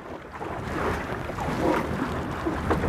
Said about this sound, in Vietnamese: Vì là cái thúng nó nhỏ mà sóng nó to nên là nó rất dập dềnh.